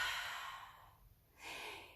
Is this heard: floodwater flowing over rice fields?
no